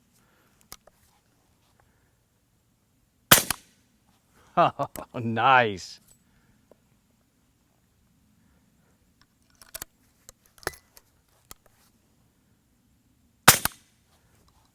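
Several suppressed rifle shots through a Rugged Suppressors Surge 762 suppressor with a 30 caliber end cap, sharp isolated cracks spaced apart, the first slightly more pronounced, with a brief spoken remark between shots.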